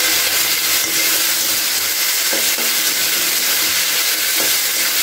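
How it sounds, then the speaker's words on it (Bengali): Spices, salt, turmeric, cumin and chilli powder with chopped tomato sautéing in a pan for a vegetarian Bengali banana flower curry, a steady loud sizzle and hiss with a few soft stirring scrapes. "এবার দিয়ে বেশ কিছুক্ষণ আমি এটাকে কষিয়ে নেব"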